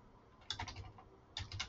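Clicky computer keyboard typing in two quick bursts of several keystrokes each, close and clear with a pause between, no voices.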